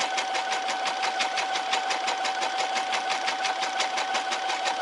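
A Brother SE630 sewing and embroidery machine stitches at a raised speed, its needle producing a fast, even mechanical chatter over a steady motor whine, loud and close with no talking.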